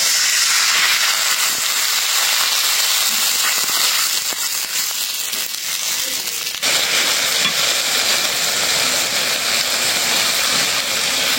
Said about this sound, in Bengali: মশলা কষানোর জন্য একটু পানি দিয়ে দিই